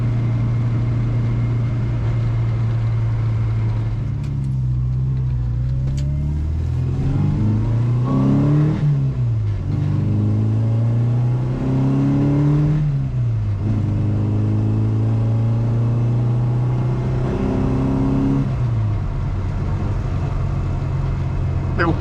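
A restored classic Mini on the road pulls hard through its gears, the engine note rising and dropping repeatedly with each shift, a loud close in-cabin drone with no talking.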